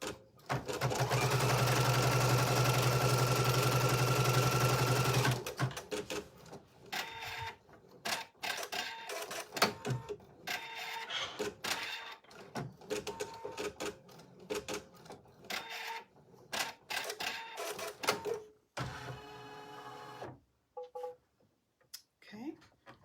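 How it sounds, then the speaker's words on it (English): Embroidery machine stitching to tack down fabric for an in-the-hoop heart oven mitt, a loud, fast mechanical whirring run for several seconds, then quieter intermittent stitching clicks and handling noises as a person talks. "now it's going to tack down the fabric"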